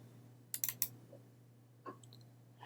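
A few quick computer mouse clicks in a short burst, followed by a softer click or two after a pause, close and quiet over a low steady hum.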